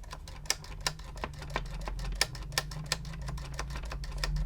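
Rapid, crisp clicking as the slide switches on a Sharp QT27 boombox are worked back and forth after cleaning, a quick irregular string of close mechanical snaps with no talking.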